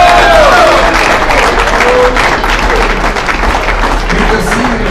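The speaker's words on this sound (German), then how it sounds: "Nochmals Applaus" An audience at a ski world championship women's combined ceremony in St. Moritz applauds for the winner, with sustained, dense clapping and some cheering from a crowd, steady and loud throughout, alongside an amplified sound system hum.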